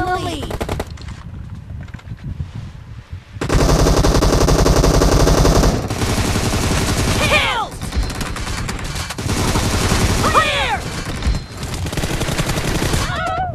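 Automatic gunfire rattles in the battle royale game PUBG during a ranked duo match, sustained loud bursts of rapid shots with brief pauses between volleys, under excited voices talking over it.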